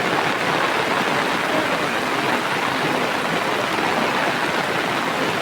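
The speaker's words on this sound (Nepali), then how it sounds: "रोडमा भर्खरै यत्रो पानीको गाड चलिरहेको क्या रोडमा।" Rainwater rushes along a road with no drainage after fresh rainfall in Vyas, Tanahun district, Nepal, making a steady, loud, unbroken wash of flowing water with no voices.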